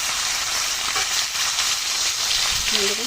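Small puti fish sizzle and crackle in hot frying oil, a steady close hiss with light stirring sounds and a faint voice near the end.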